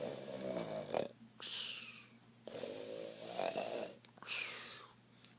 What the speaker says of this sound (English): I can't take it anymore of all this snoring.